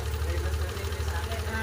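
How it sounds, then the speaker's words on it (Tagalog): An engine runs steadily after an ECU repair, with an abnormal noise: a continuous low, throbbing drone at a constant, fairly loud level, with a faint wavering rattle on top and no break through the clip. "May ingay na yung makina niya."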